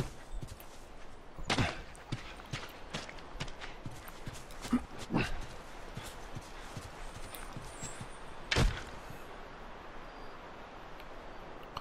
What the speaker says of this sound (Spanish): Bueno, los caballos... Ah, mira, los hay.